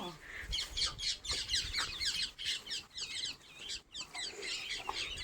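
Birds chirping and squawking nearby in a busy, irregular chorus of sharp calls, fairly faint, with a little background voice.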